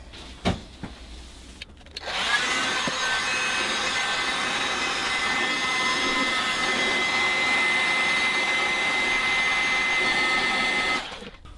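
A heat gun blows a steady, loud whoosh onto a part of a badly worn vintage Dobro guitar under restoration, starting after a couple of short knocks and running continuously before cutting off.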